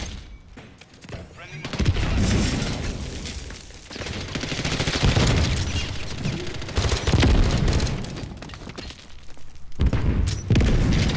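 C4 charges detonating in Call of Duty: Modern Warfare III, a run of loud booming blasts mixed with gunfire bursts, dense and near, with a voice talking over the action.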